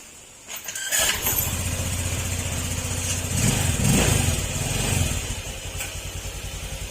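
A Honda CL motorcycle engine with an uneven, rough-toned idle runs steadily during an ECU check, starting after a brief quiet moment and holding a close, continuous rumble that swells slightly midway.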